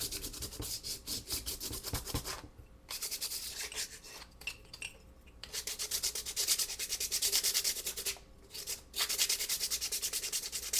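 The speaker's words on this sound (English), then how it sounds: "So I'm just gonna sand some of this off." Dry, scratchy sanding of paint off the raised areas of a decorated craft jar, rhythmic rubbing strokes close up with a few brief pauses between passes.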